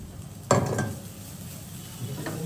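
Green chilies go into a spiced filling frying in a pan, with a sharp clatter and stir at first, then a soft continuous sizzle and a faint second scrape, no speech.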